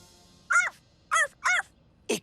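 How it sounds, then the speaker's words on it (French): Pierre, a cartoon dog from Blaze and the Monster Machines, gives four loud, raspy, close barks in an uneven rhythm over a quiet background. "On a entendu Pierre aboyer tout à l'heure et ça faisait comme ça."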